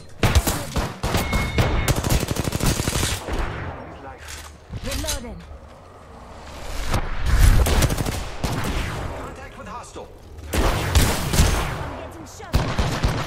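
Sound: gunfire in video game Apex Legends

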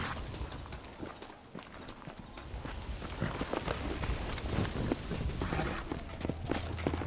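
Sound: horse hooves, from video game Red Dead Redemption

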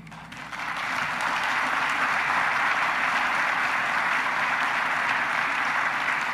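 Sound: audience applause during presidential speech

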